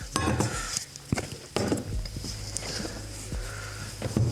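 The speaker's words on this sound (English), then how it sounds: "Tool bag for my cutlery and stuff." Metal cutlery clinks and rattles inside a tool bag, with several sharp chinks and soft rustling handling noises close by.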